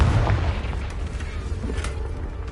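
A Confringo blasting curse explodes in the Hogwarts Legacy video game, a heavy rumbling boom with a dense, noisy low-end burst that rolls on and fades over a couple of seconds.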